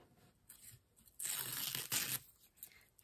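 Perforated paper backing is ripped away from applique stitching in one loud, sustained tearing burst of about a second, framed by quieter crinkling and rustling before and after.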